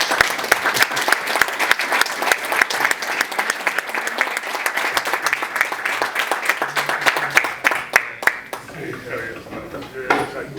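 A small group clapping around a table in a meeting room, a close, loud run of individual claps with distinct sharp hits that thins out and stops near the end, followed by some quiet talking.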